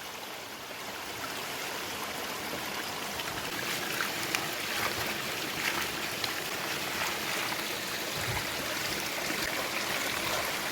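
Herb leaves being rinsed in a bowl of water before salting, giving a steady close-up trickling and splashing wash with soft sloshes and no voices.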